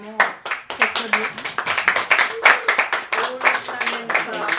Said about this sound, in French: Je voudrais qu'on t'applaudisse encore une fois